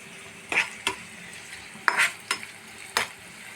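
Onions frying in a pan for a white chickpea curry, stirred with a utensil: a handful of sharp scraping strokes against the pan over a faint, steady sizzle, close by.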